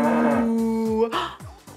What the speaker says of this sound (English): Do you know what sound a cow makes?